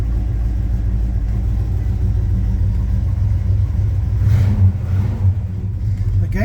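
A 1984 Chevy C10 pickup truck with a carburetor, its engine idling just after starting, a steady low rumble that swells briefly near the end, close and loud.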